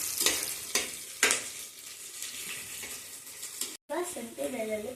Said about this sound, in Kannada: ಮೀಡಿಯಮ್ ಫ್ಲೇಮಲ್ಲಿ ಇಟ್ಕೊಂಡು ಫ್ರೈ ಮಾಡಿ, ಇಲ್ಲಾಂದರೆ ಕಲರು ಬೇಗ ಬಂದ್ಬಿಡುತ್ತೆ